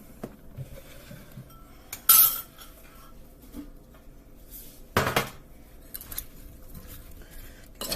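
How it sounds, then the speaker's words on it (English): Italian-seasoned food for a St Patrick's Day meal being stirred in a bowl, with a few sharp clinks and scrapes of a utensil against the bowl spread over quiet stretches, close and without speech. "And then you're going to give this a nice stir."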